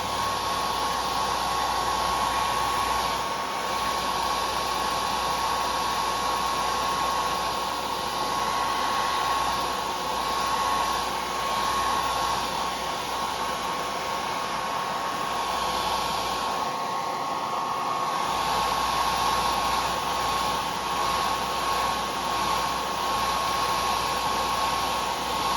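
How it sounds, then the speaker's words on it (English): A hair dryer blows steadily at a low setting, a constant whirring hum with a faint high whine, running nonstop without pauses. "Now we take our hairdryer again."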